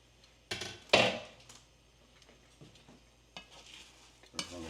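An egg is stirred in a HexClad nonstick pan: a few loud scraping strokes and utensil knocks over a faint sizzle, with quieter gaps between the movements.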